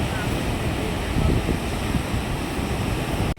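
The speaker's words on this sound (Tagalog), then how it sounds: "Lalaki ng alon." Heavy, continuous rush of large waves breaking, mixed with wind noise, loud and close, ending abruptly.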